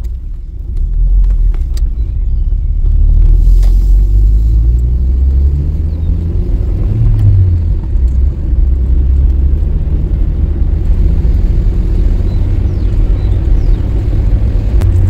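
A loud, steady low rumble of a car moving along a congested highway from Mangaon to Indapur, with engine tone rising and falling and no talking.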